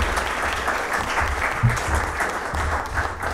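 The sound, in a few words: applause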